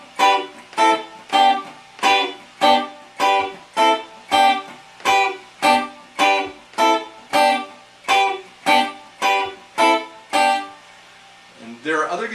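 Electric or acoustic guitar strumming combined chord shapes in a steady run of about seventeen evenly spaced, ringing strokes, each chord cut short before the next, played alone and close.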